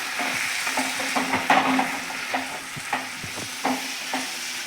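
Repeated scraping and clattering strokes of a spoon stirring diced sweet potato with lemon juice in a pan, with a light sizzle underneath and no voices.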